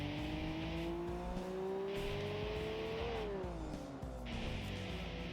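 Nissan Skyline engine in a Wangan highway street racing video game, a steady loud drone that climbs through the gears, then drops at a shift and climbs again, with no talk over it.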